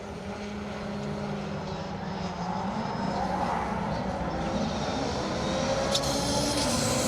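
A rally car's steady engine drone builds slowly in the distance on a circuit rally stage at Donington, growing a little louder and closer toward a hairpin, with a brief sharp burst near the end.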